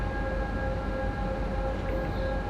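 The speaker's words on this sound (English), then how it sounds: "Do like the horn too. It's well mixed as well." A BR 145 electric locomotive horn in a train simulator game sounds as a steady, loud sustained tone over continuous rumbling train noise, with no talking.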